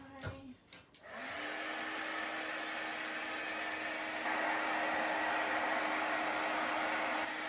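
A hair dryer drying chalk paste on a craft project. A few clicks come first, then the dryer starts and runs with a steady, loud whooshing roar that gets slightly stronger partway through.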